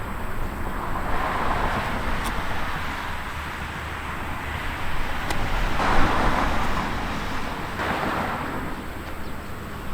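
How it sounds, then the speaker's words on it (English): Cars passing on a road, a continuous roar of traffic that swells and fades as vehicles go by, with a louder pass near the middle, some wind noise and no talking. "I was patient and waited for all the cars to pass."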